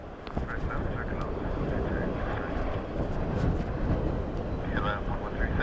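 An aircraft lands at Dublin Airport in a storm, a steady broad roar of engine and wind noise running throughout, with gusty buffeting.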